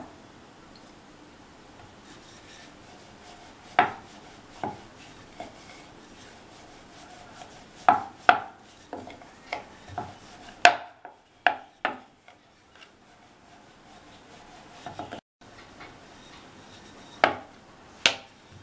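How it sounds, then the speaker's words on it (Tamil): Chola poori dough balls being rolled out with a rolling pin, giving scattered soft knocks and rubbing strokes on a board at close range, with quiet pauses between. "பூரியை தேய்ச்சிடலாம்"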